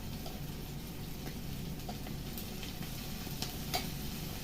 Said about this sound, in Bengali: আদা কাঁচা লঙ্কা আর জিরে পেস্ট দিয়ে দিচ্ছি